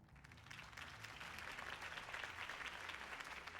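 A crowd applauds after Harvey Dent's campaign speech in the Batman Telltale video game, a faint, steady wash of many hands clapping that continues evenly without talk.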